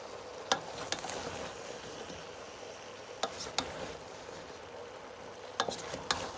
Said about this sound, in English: I'm gonna give it a little mix